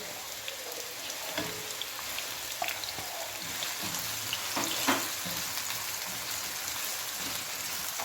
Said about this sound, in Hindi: तब तक इसको फ्राई करें जब तक गोल्डन ब्राउन नहीं हो जाता